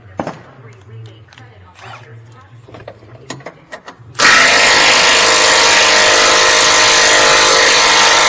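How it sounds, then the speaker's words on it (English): An electric impact gun loosens a lower control arm bolt on a second-generation Ford Escape or Mercury Mariner. It starts abruptly halfway through as a loud, continuous mechanical roar after a quiet stretch with someone speaking. "Now I should be able to get my electric gun on that bolt."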